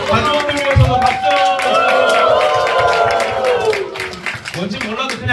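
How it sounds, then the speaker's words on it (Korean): A crowd at a church winter retreat claps together for the families, a dense burst of applause with a voice and background talk over it, close and lively. "가족들 위해서도 박수"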